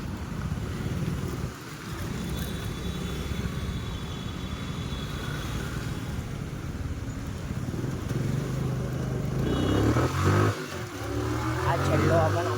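A motorcycle rides across a bridge near water with a steady low engine drone and heavy wind rush against the microphone, rising slightly louder toward the end, with someone talking over it.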